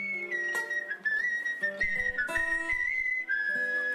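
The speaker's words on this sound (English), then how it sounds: "This is the whistle, right? So I'll just let this play." A recorded whistle plays a wandering, warbling melodic line for several seconds, fairly quiet, with a few soft knocks and background sounds under it.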